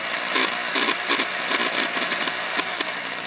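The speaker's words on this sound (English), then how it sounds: "now I'm going to switch to the 1/8-inch bit and drill the actual hole for the leg" Drill with a 1/8-inch bit boring a hole in cast resin, a steady high whine broken by repeated short grinding pulses as the bit bites into the plastic.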